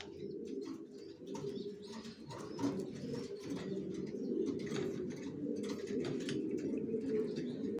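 A pair of large young racer pigeons coo steadily up close, their low, rolling calls overlapping without a break over a soft background.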